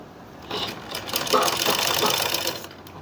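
A sewing machine stitching palazzo trouser fabric, a steady fast mechanical whir that starts softly, rises into a loud continuous buzz, then eases off near the end, close up with no talk.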